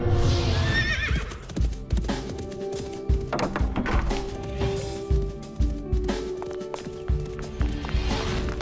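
A horse whinnies repeatedly over hollow clip-clopping hooves and occasional thunks, the neighs rising and falling across the stretch, fairly close and clear with no talk.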